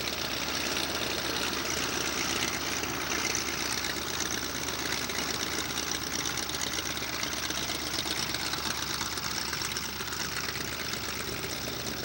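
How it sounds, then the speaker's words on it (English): A yellow Monocoupe light aircraft, its carburetor recently repaired, circles overhead at a 1994 fly-in, its engine a steady, continuous droning hum that never breaks. "And then Bill Sims is circling overhead"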